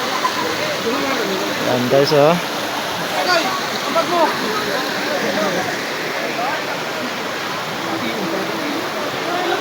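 An overflowing river rushes steadily at a spring resort in Sorsogon, a loud continuous broadband wash of flowing water with occasional splashes, while someone talks briefly over it and other voices murmur nearby.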